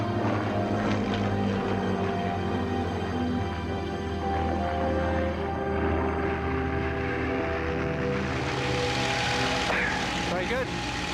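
A Spitfire's engine and propeller drone loudly and continuously in flight, heard from close by as a deep, steady roar with a rising rushing hiss toward the end.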